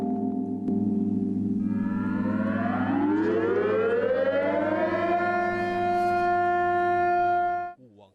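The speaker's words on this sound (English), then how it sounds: "A bell tolled and air raid sirens rang out across China's northeastern Liaoning province" Air raid siren wailing across Liaoning province, China, for a commemoration, a long steady tone that climbs and holds loud and sustained with a bell-like tone underneath, then cuts off near the end.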